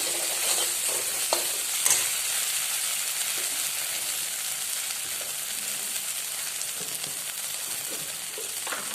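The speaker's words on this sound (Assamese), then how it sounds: "এতিয়া আলুটো অকণমান ভাজি লওঁ মই" Potatoes fry in a pan as they are stirred, a continuous close sizzle broken by scraping and clinking strokes of the spatula, with no talking.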